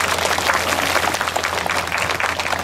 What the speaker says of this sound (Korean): 박수 한번 주시면 감사하겠습니다.